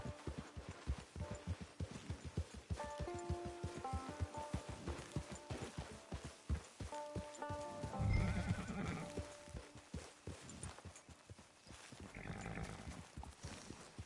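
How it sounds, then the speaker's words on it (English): Horse neighs and whinnies rise over a steady clip-clop of hooves in the Western open-world game Red Dead Online, with a louder snort or blowing burst midway and another whinny near the end, all without speech. "Get your horse."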